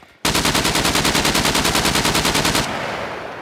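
Rapid automatic gunfire in the survival video game SCUM, a loud, evenly spaced burst of about two and a half seconds that stops abruptly and leaves a fading echo.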